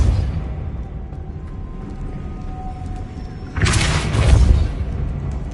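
A Depulso spell cast in a Hogwarts game lands as a sudden booming burst midway, loud and broadband over steady low ambient rumble, then fades into a lingering wash.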